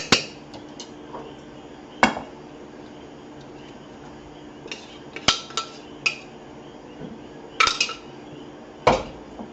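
Curry okra salad being tossed in a bowl with utensils, sparse clinks and knocks of metal against the dish scattered over several seconds, close and fairly quiet, no voices.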